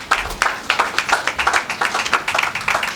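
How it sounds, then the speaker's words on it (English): A small church congregation claps for a pastor, close and fairly loud, a loose rhythm of individual hand claps with a few hands standing out, brief and unamplified. "Please, a round of applause for Pastor IT"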